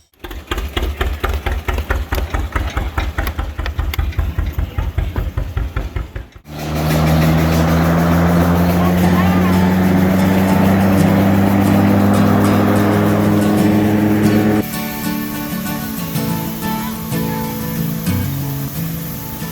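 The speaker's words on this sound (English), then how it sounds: "Using only steam tractors, cedar shavings and sawdust are superheated in the steam engine's firebox." A heavy steam tractor engine, fired on cedar shavings and sawdust at an antique machinery show, runs loudly and steadily, first with a rapid chugging pulse, then shifting into a deep, droning roar with hissing noise.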